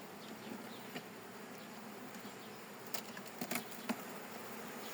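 A steady low drone of many bees buzzing close by at an opened beehive, with a few sharper clicks and taps near the end.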